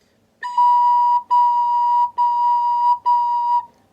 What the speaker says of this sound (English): If I put the t in there, it gives it a much more defined start to the note.